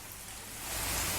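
Moderate to heavy summer rain in Tamil Nadu makes a dense, steady hiss that swells louder partway through, with no voices.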